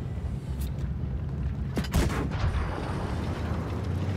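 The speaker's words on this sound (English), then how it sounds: "Puts a blind shot in there." A tank cannon fires in World of Tanks Blitz while the AMX CDA 105 fights, one booming shot with a sharp crack and rumbling tail near the middle, over constant engine and battle noise.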